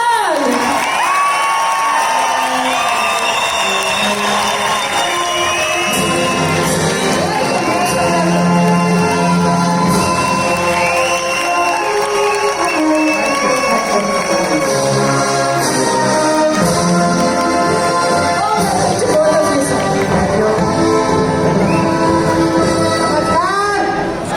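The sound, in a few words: audience applauding and cheering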